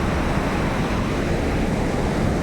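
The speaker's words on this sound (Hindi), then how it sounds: "देखिए नीचे से पानी निकल रहा है" Swift Sharda river water rushing beneath a bridge on the India–Nepal border, a dense, steady roar filling the whole clip at close range with no voices.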